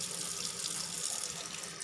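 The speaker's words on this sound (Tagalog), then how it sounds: "So, lagyan natin ng konting tubig." Water runs steadily from a tap into a cooking pot for paksiw na gabe, a Filipino taro dish with vinegar, making a continuous close splashing pour with no talk.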